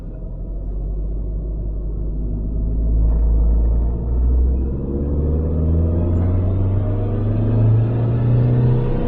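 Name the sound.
Ford Focus ST170 engine revving on a dyno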